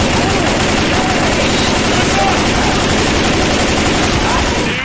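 Shotgun blasts in a zombie survival video game, dense and loud gunfire filling the whole stretch with no pauses, heavy game noise masking individual shots.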